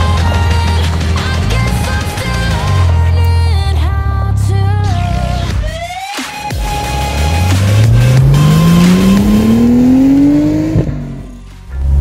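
A Nissan R34 GTR replica's engine roars close by as it accelerates through the gears on the road, a gear change cuts the sound briefly, then it revs up again, loud and rising.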